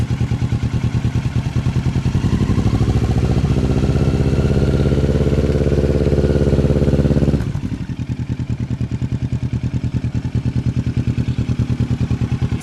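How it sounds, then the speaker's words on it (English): A motorcycle engine running close by, a loud steady throbbing that drops suddenly to a lighter idle-like putter partway through, as the throttle is worked during a riding lesson; no talking over it. "apply a gas on your throttle by squeezing the throttle"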